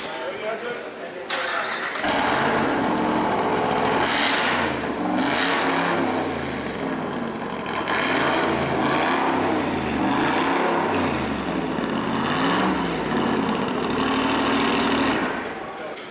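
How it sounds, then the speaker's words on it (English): A supercharged Hemi V8 in a 2017 RAM Rebel TRX concept truck with side exhaust behind the rear doors fires up loudly, then revs repeatedly in rising and falling surges before settling, with a voice talking over part of it. "this truck knows how to make some noise."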